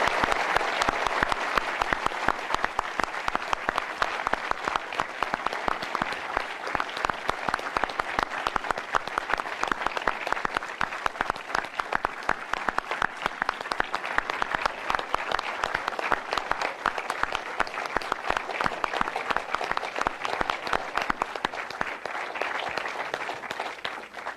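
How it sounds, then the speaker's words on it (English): Sustained audience applause, dense steady clapping from a large crowd that continues evenly for the whole stretch before tapering slightly. "Let's give them a round of applause."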